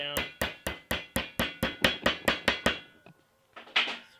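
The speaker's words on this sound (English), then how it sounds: "Take a hammer, just hammer it down." Hammer strikes bending a metal brake line clamped in a vise, a run of about twelve sharp, evenly spaced metallic blows, close and loud, followed by a brief pause and a couple of fainter clanks.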